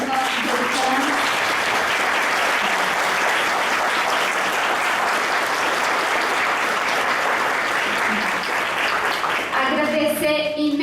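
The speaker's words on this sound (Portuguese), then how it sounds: "eu queria, por favor, que a gente batesse palmas para os nossos educandos" Sustained, loud applause from an audience at an adult education forum gathering, steady broadband clapping filling the whole stretch, tapering briefly at the end as a voice begins.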